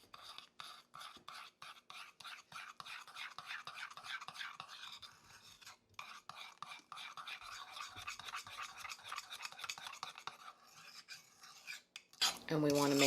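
Almond flour cookie mixture is stirred in a mug, a steady rapid scraping and clinking of a utensil against the mug's sides, close and continuous, ending with a louder clatter.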